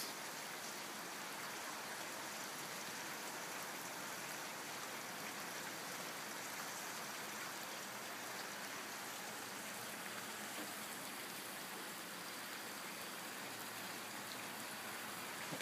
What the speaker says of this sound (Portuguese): Um pouquinho de chuva pra vocês.